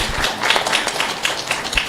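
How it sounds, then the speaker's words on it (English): A short round of applause for the sponsors of a temple feast, quick scattered clapping from a gathered audience, moderately loud and alone. "Do give them a big round of applause for sponsoring today's feast."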